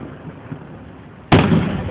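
A single loud Fourth of July firework bursts close by with a sudden, sharp boom, followed by a ringing, crackling decay after a stretch of quieter outdoor background noise.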